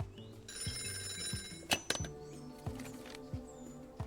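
A cartoonish phone rings in the video game Tukoni, a few quiet repeated trilling bell tones with soft knocks and chimes between them.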